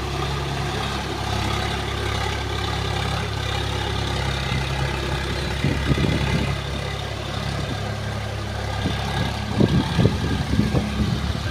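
A Swaraj 742 FE tractor works a field with a rotavator in third low gear, giving off a continuous loud, low engine drone with occasional thumps and churning bursts.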